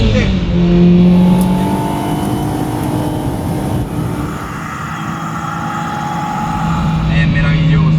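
Lancia sports car engine revving hard while driving on a road in Connecticut, a loud continuous rise and fall of engine pitch with a voice speaking over it throughout.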